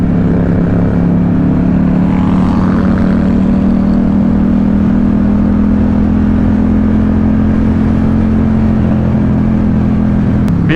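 A Ducati Diavel 1260 motorcycle cruises in a group ride alongside Harley-Davidson and Indian bikes, with a steady, loud, low engine drone and rumble that holds throughout, mixed with rushing wind.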